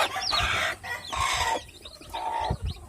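Day-old chicks cheep in bursts of high, sweeping peeps beside a mother hen, with low clucks underneath, close and fairly loud with short pauses between calls.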